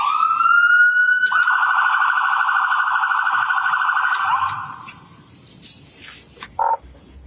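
A police car siren wails loud and steady, a sustained rising tone that holds for several seconds before cutting off, leaving faint outdoor ambience and a brief squawk near the end.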